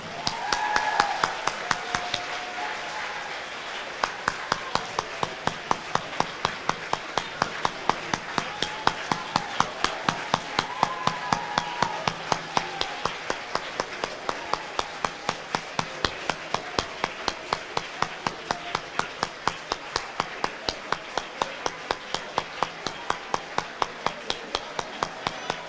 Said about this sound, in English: Ladies and gentlemen, can we clap them out,